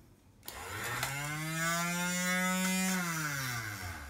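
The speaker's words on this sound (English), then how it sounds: "when you hit auto down, the rear gate will continue to travel down until it's seated" A power rear liftgate motor runs on auto down, a steady close electric whine that rises then holds a constant pitch for several seconds before winding down as the gate closes, with no talk.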